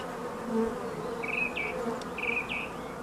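Honeybees drone at a hive during swarming season, a steady, low hum with a few higher, louder buzzes passing close by as single insects fly near.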